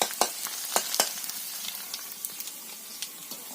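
Spice mixture sizzling in a pan with pointed gourd already fried in turmeric, salt and chili, in a village kitchen; a steady soft frying hiss with scattered sharp crackles and pops, several loud ones early, no voices.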